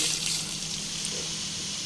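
Water pours in a steady, hissing stream, splashing continuously into a cooking pot of rice for khichdi close by, with no voices.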